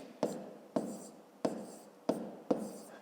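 A pen writes numbers by hand on paper for a fifth-grade maths exercise, heard as five short scratchy strokes at a steady pace, close up and quiet, with no talking.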